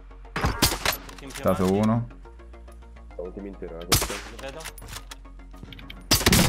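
Gunfire from the video game Warzone: several loud, sharp bursts of shots and metallic clinks, some in quick succession, broken up by someone talking during the gaps.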